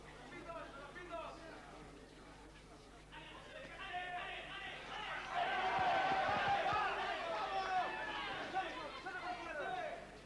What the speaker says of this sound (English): Good crowd in here.